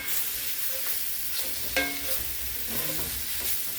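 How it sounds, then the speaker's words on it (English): Mushrooms sizzle steadily in a hot pan while a utensil stirs and scrapes now and then, close and continuous. "Saute up these mushrooms for a bit."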